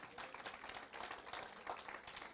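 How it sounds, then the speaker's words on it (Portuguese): A church congregation claps together in praise during a worship service, a dense, fairly soft patter of many hands lasting a couple of seconds, with faint voices mixed in. "Aplauda o Senhor"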